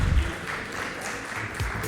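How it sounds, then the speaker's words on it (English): Modest round of audience clapping at a leadership conference, a soft, fairly distant patter of hands that stays even and subdued throughout. "Please welcome with a little round of applause,"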